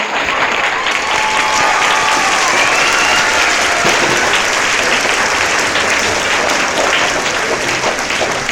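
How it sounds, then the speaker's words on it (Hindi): Loud, sustained applause from a seminar audience fills the hall, a dense wash of clapping that holds steady without a break. "एक बार जोरदार तालियों के साथ"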